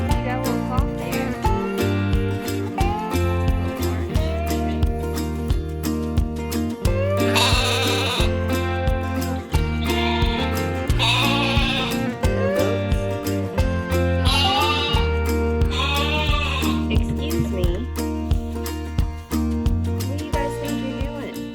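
Small goats bleat repeatedly over a dense, steady background of music, with several drawn-out wavering cries rising above it.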